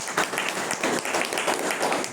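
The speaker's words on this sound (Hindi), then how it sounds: "ताली बजाएंगे यीशु मसीह के लिए।" A congregation claps for Jesus Christ at a Hindi-language church gathering, a short burst of moderately loud, uneven clapping with no speech over it.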